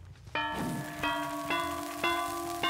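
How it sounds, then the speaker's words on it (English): Bells ring close by in the video game Dead by Daylight as the killer uncloaks nearby: four clear, ringing strikes about half a second apart, each note sustaining into the next over a quiet background. "When you hear the bells really, really fucking close, then he's uncloaking in your vicinity"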